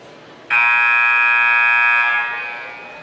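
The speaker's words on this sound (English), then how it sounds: "There's the buzzer." A loud, sustained electronic basketball game buzzer blares for about two seconds, then fades out, with faint room murmur underneath.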